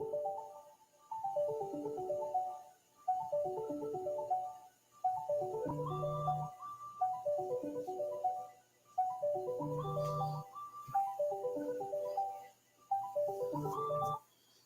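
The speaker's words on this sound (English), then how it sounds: "My phone ringing." A mobile phone rings with a melodic ringtone, repeating in regular bursts separated by short gaps, clear and fairly close with no talking.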